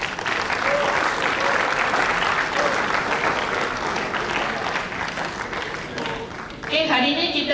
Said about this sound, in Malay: Tepuk tangan untuk di sini.